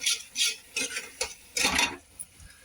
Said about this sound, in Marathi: हे मसाले आणि याला आपल्याला आता परतून घ्यायचं आहे